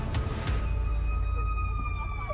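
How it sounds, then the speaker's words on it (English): An emergency siren wails on a street, loud and steady, its tone sliding across the whole stretch with heavy traffic rumble beneath and no speech. "Sirens were part of the ambiance."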